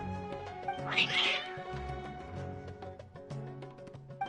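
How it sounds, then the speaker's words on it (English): Cats meow and caterwaul inside the Genshin Impact video game, a burst of excited cries rising near the start over steady game music with layered tones. "Your cats seem pretty worked up."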